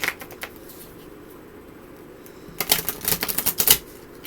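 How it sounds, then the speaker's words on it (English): A new deck of playing cards being shuffled, a quiet riffle at first, then a louder run of crisp, rapid flutters near the end, close and alone with no talk. "Shuffle, separate them up."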